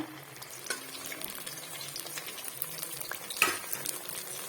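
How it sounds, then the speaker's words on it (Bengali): Moringa leaf fritters frying in oil in a pan, a faint, steady sizzle broken by light scraping and clinks of a utensil against the pan, without talk. "তেলেতে এগুলো আস্তে আস্তে করে ভেজে নেব"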